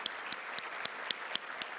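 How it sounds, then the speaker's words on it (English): Faint, evenly spaced claps sound at a steady beat, roughly four per second, against a quiet room at Spokane's State of the City address, thanking community leaders who have stood up. "Stand up so we can give you a big round of applause"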